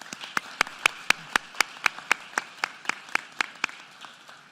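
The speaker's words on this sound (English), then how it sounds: "Let's give him another round of applause." Sharp, evenly spaced claps ring out one after another at a steady rhythm following a superintendent's public education address, sounding like a single clear clapping source more than a full crowd.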